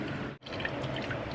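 Huli huli sauce is poured over chicken in a crockpot, making a close, steady liquid splashing with one brief break in the flow.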